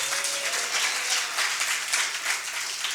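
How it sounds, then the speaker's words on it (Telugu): At a church service, a congregation claps in praise, giving a steady, fairly distant wash of applause that lasts the whole stretch without breaks. "చప్పట్లు కొట్టి స్తోత్రం చెబుదాం"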